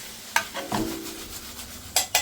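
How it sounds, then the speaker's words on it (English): Okra and Roma tomatoes are stirred in a cooking pan for Indian-style fried okra: a few distinct scraping strokes of a utensil over a soft, steady sizzle, close and fairly quiet. "Give all that a good stir and then continue cooking for another 2 minutes."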